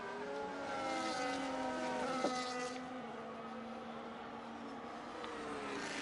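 Formula 1 racing cars in a video game at Monaco, engines whining at high pitch and shifting through gears as they pass, fairly faint and continuous.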